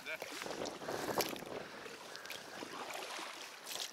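Steady wind rushes across the microphone in an open clearing by a river on a rafting trip, continuous and moderately loud, with gusts rising and falling and brief voices underneath.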